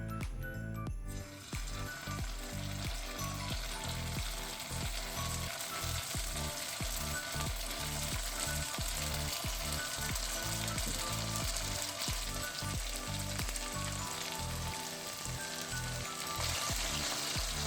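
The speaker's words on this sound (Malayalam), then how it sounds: "എണ്ണ ചൂടായിട്ടുണ്ട്. ഇനി നമുക്കിതിലേക്ക് ചിക്കൻ ഇട്ട് കൊടുക്കാം." Chicken pieces for popcorn chicken fry in hot oil with a loud, dense, steady sizzle and crackle that holds unbroken from start to finish, close up and with no voices.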